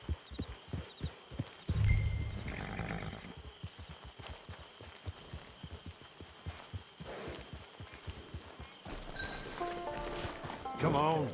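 Horse hooves clopping at a quick, steady rhythm in the video game Red Dead Redemption 2, close and continuous, with a character speaking over the hoofbeats and a brief snort or whinny near the end.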